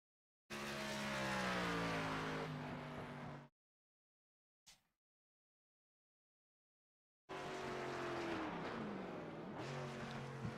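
A race car lapping the track at an ARCA Series race at The Rock, its engine droning loud and steady, cut off by a gap of silence and then returning with a falling pitch shift.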